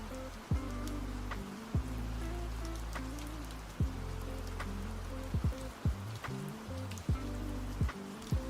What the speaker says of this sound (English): I think rain may be a tad loud.